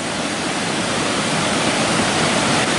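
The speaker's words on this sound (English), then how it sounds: "This is Gibbon Falls, still in Yellowstone National Park" Gibbon Falls in Yellowstone National Park: a dense, steady roar of falling water, loud and close, filling the whole clip without breaks or voices.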